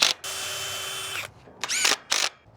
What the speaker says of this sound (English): I'm going to screw them together.